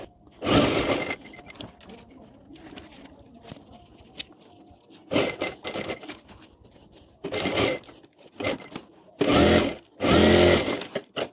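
A domestic sewing machine stitches a shirt-style coat collar for a baby girl's dress in several short loud bursts separated by pauses, with faint background sounds between runs.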